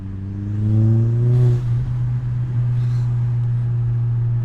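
A close Volkswagen Jetta MK4 engine with an aftermarket Chinese exhaust revs up with climbing tones, dips, then holds a loud, steady low exhaust rumble that continues to the end.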